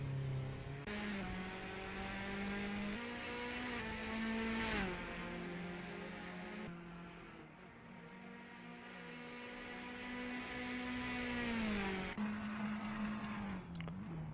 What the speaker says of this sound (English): car hitting the top of the rev limiter there